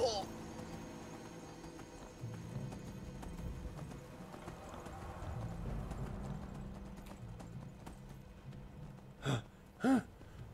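A horse's hooves clip-clop steadily at moderate distance in Skyrim, a soft rhythmic trotting under ambient game sound, followed near the end by two short louder bursts that could be a whinny, while someone talks.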